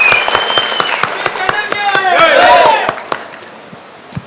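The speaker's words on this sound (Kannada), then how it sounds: "ಅವರಿಗೆ ದೊಡ್ಡ ಚಪ್ಪಾಳೆ ಮುಖಾಂತರ ಆಶೀರ್ವಾದ ಮಾಡಬೇಕು." Audience applause at a stage felicitation event, a dense crowd of clapping that swells and then fades, with voices and tonal sound running over it.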